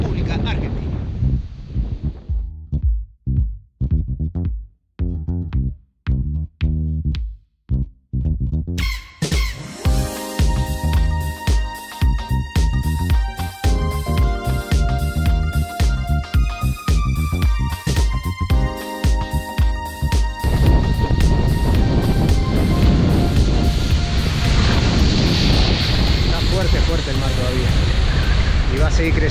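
Waves break and surge on a beach at Playa Sunrider in Mar del Plata, Argentina, with strong wind buffeting the microphone, loud and continuous, while someone talks over the roar.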